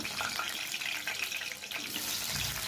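Water runs steadily and fairly loud from a tap, filling a basin to soak removed sofa covers; the rushing, splashing sound stays constant throughout.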